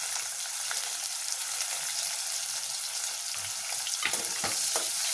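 Onion pieces frying in hot oil with whole garam masala, cloves, cinnamon, bay leaf and shahjeera, a steady close sizzle with a few sharp crackles and stirring scrapes near the end.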